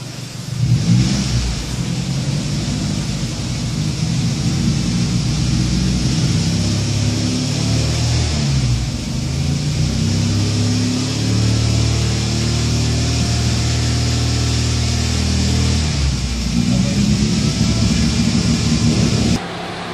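A loud Perodua Kenari 1.3 engine runs steadily for the whole stretch, its revs rising and falling at times, with no voices.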